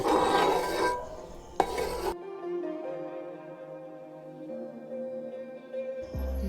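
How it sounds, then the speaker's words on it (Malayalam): A spoon stirring thick jackfruit halwa in a bronze uruli gives a dense scraping rasp for about two seconds, then gives way to gentle music. "ഇത് വെങ്കല ഉരുളി ആയതുകൊണ്ട് അടി പിടിക്കില്ല ധൃതിപ്പെടേണ്ട പതുക്കെ കിണ്ടിക്കൊണ്ടേ ഇരിക്കും"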